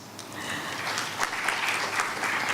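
A crowd at a university convocation claps steadily, a dense patter of many hands applauding at moderate loudness for a few seconds.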